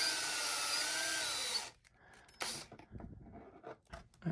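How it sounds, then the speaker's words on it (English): Power drill boring a hole through a plastic fender eliminator on a 2020 BMW S1000RR, a steady high whine for about a second and a half, then stopping, followed by scattered handling clicks and a brief second burst. "I'm going to just drill right where that hole is."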